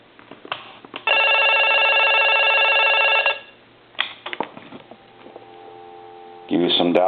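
Original Mickey Mouse telephone under repair rings with a loud, steady electric bell burst lasting about two seconds, followed by clicks, a faint tone and another ring starting at the end.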